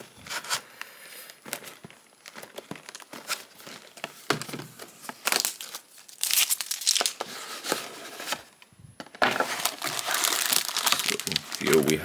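Crinkly plastic packaging rustles and crackles as bands are slid off a Pokemon Ceruledge model kit box, loud bursts of crumpling and tearing close by, with a person talking in between.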